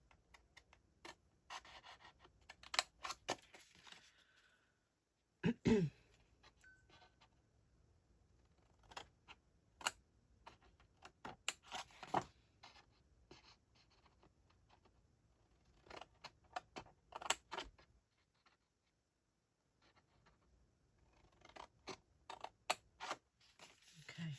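Scissors cut through card stock up to a score line while an accordion fan box card is made, giving sharp, clipped snips in scattered bursts with quiet pauses in between, close and fairly soft, with no voice.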